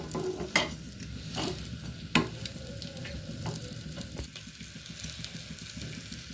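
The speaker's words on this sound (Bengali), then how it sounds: "ভিতর পর্যন্ত ভালোভাবে ভাজার জন্য এটা অনেকটাই তেল দিয়ে ভাজতে হয়" An egg-filled mughlai paratha shallow-fries in plenty of oil, a continuous close sizzle broken by a few sharp clicks from the turning utensil.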